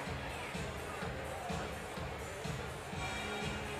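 A basketball crowd cheers and roars steadily inside a packed gymnasium during a high school game, a dense continuous wall of voices with rhythmic stomping or clapping pulses underneath.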